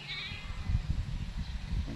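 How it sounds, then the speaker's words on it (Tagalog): Faint bleats of native goats grazing behind a house rise briefly over a low, rumbling outdoor farm background, with no talking. "lalapitan ulit natin tong mga native na kambing natin"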